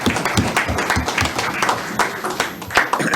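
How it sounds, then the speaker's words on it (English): Applause at a university campus council meeting, with a smaller group whose individual claps stand out as distinct, uneven hits, close and fairly loud. "it deserves a second round of applause"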